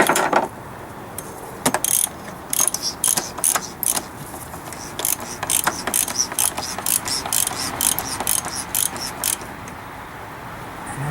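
An engine oil drain plug being threaded back in by hand on a car, giving repeated short ratcheting clicks in uneven bursts, close and fairly loud, with no talk.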